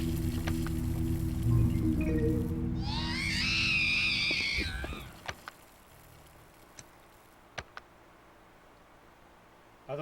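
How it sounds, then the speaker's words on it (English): A synthetic white-flowered plant creature, Flora animalia, in the PS2 game Haunting Ground (2005) lets out a wavering, shrill scream for about two seconds over a low droning backdrop, followed by sparse faint ticks. "Its screams and its poisons are known for slowly driving a victim insane."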